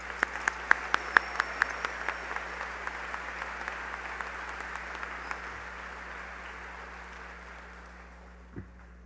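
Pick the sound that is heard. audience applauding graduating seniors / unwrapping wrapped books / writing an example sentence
audience applauding graduating seniors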